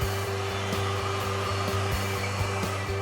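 A heat gun warms vinyl wrap film over curved edges and gives off a steady, close electric blower hum with a constant airy whoosh, alone and without talk.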